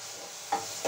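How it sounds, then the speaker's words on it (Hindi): Tomatoes drop into a hot, sizzling pan, giving two short bursts of hiss and crackle over a continuous frying sizzle. "ये टमाटर डालूंगी 3-4 इसके अंदर"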